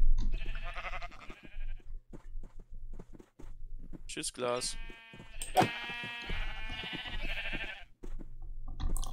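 Sheep in the Minecraft video game bleating a few times amid game sounds and footsteps, while a German-speaking player talks over it fairly quietly.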